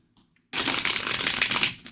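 Cards for a tarot-style reading are shuffled hard for about a second and a half, a dense, loud riffling rush that starts abruptly after near silence and then fades, with no talk over it.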